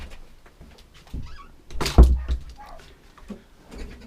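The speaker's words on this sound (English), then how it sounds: "Just going to shut my door a minute." A door is pushed shut with a single loud, close thud midway. Softer shuffling sounds and light background noise come before and after it.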